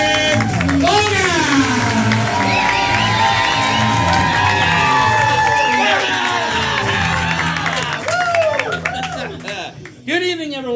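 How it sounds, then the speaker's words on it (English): A comedy show audience claps, cheers and whoops in a loud, sustained roar of applause that tapers off toward the end, with shouted voices over the crowd. "I need to hear you clapping! I need to hear you screaming! Let's make some noise!"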